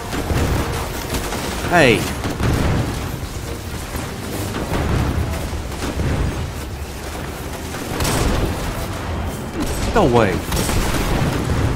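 Gunfire and booming impacts in the sci-fi shooter Destiny 2, a continuous rumbling barrage of shots and blasts behind brief exclaimed speech, fairly loud and steady throughout.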